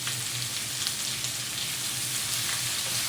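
Red capsicum sizzles in a pan with a continuous, even frying hiss that stays steady throughout and is heard on its own without talk.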